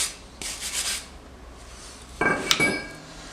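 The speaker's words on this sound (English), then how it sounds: "What you want to do is use a wire brush, clean up where the pad is gonna, where the brake pad is gonna ride on" A wire brush scrubs a brake caliper bracket where the pad rides, giving short bursts of scratchy rasping, then a sharper metallic scrape with a clink, up close and without speech.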